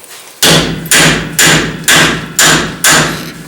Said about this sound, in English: now to drive the pinion out of here, put your nut back on. Use the brass punch.